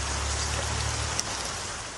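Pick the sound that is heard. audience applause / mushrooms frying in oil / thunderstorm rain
thunderstorm rain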